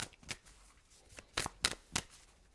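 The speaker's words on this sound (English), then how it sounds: "Let's shuffle and pull the cards." A deck of tarot cards is shuffled in a quiet room, giving several short, crisp riffling bursts spaced irregularly. The sound is close but soft.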